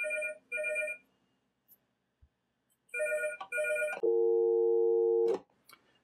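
A landline telephone driven by a SLIC module rings with the UK double-burst cadence, two short ring pairs separated by silence, then a steady held dial tone, clear and close with no voices.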